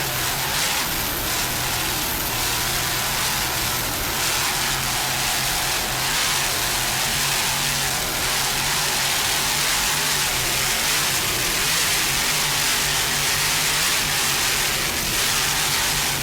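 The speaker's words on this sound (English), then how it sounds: "Just listen to those Sterling inboards." Sterling inboard engines on racing boats throttle through a 1997 Chicago race, a steady dense engine roar with low harmonic drone and rising and falling revs, continuous and fairly loud with no talk.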